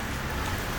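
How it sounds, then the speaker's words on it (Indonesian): Steady rain falls on surfaces during a motorbike tour along Indonesia's southern route, a dense, even hiss of drops close by with no talking. "Hujan."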